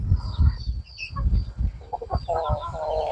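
Chickens on a poultry farm cluck near and loud in short uneven bursts, with a few higher calls toward the end and no clear talking.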